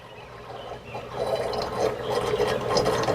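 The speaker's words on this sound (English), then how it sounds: "Hear that gargling? See that gargling? See the bubbles down there? And watch the water come up. That is the siphoning starting." Water gurgling and bubbling through a pipe as a siphon starts after a valve is closed at a garden in Waimanalo, a steady rushing, sloshing wash that grows louder and fuller over a few seconds, close by with no talk.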